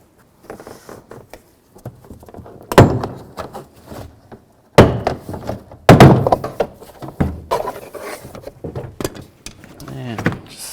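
A trim tool pries the door panel push pins loose on a 2007-13 Chevy Silverado, giving several sharp thunks and pops among softer scraping and handling noises, close by with no speech.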